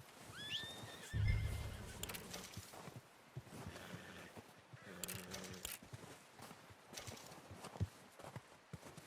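A horse whinnies loudly near the start in Red Dead Redemption 2, followed by clip-clopping hooves and shuffling movement in a busy, game-like scene.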